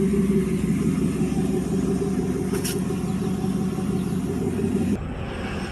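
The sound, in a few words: 2001 Dodge truck driving on highway with new Travel Star tires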